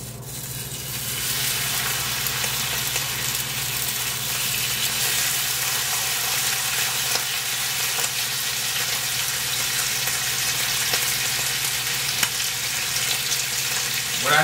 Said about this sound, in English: now this shit gonna be trying to pop for sure for these last two pieces of bacon